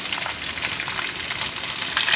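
Chicken chargha frying in hot oil gives a steady, dense sizzle that holds close and fairly loud for the whole stretch, with no talk over it.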